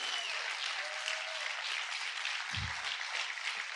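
A church congregation applauds loudly and steadily for the whole stretch, a dense wash of clapping with a brief low thump partway through.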